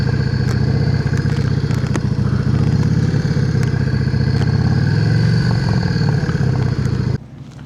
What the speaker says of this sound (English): There's got to be 150, maybe 200 motorcycles here.